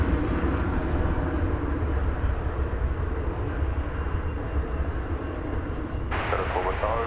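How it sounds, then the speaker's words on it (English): Airbus A321 jet on flight 2108 to Phoenix at DFW Airport, a steady engine rumble and roar running throughout, with a voice talking over it near the end. "after we look at Flight 2108 to Phoenix,"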